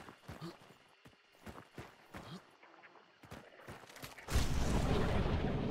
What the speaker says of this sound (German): Schüsse fallen, Schüsse fallen.